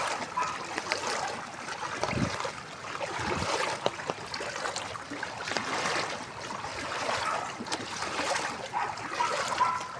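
Floodwater flowing and splashing through a village street in Cainta's Green Park, a steady broadband rush and trickle with intermittent splashes, fairly close and continuous, no talk.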